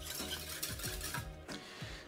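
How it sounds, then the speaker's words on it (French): A whisk scrapes and stirs egg yolks in a pan over medium heat, emulsifying with a steady back-and-forth rhythm of soft metallic strokes, close and quiet, with no talking. "on va mettre à feu moyen et on va émulsionner ces jaunes d'œufs"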